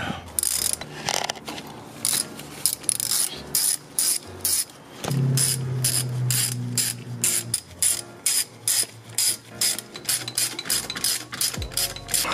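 A ratchet with a 10mm socket backs out shifter bolts on a Honda S2000, giving bursts of rapid close clicking separated by short pauses and a brief whirring spin partway through, with no one talking.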